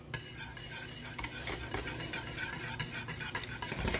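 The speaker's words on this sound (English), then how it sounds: "And we're going to mix that around again." Utensil stirring lemon juice into apple pie filling in a bowl: continuous soft scraping and swishing with faint clinks, steady throughout and close, without talk.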